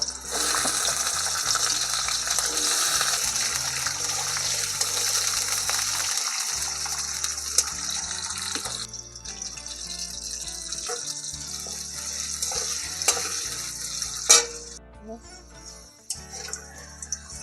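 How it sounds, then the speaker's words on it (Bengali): Potatoes frying in oil in a pan, a loud continuous sizzle up close that thins out later into scattered crackles and pops, with occasional faint talk. "এবার আমি এই তেলে আলুগুলো ভেজে"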